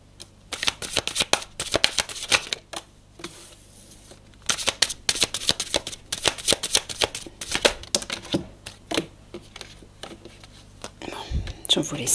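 Tarot cards are shuffled by hand during a French card reading, giving repeated close riffling and flicking bursts in an uneven rhythm, with a soft voice speaking over parts of it.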